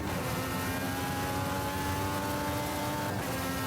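Formula USA 2023 open-wheel racing car from Automobilista 2 at Watkins Glen, its engine droning steadily and loudly throughout with a sustained tonal whine and no break.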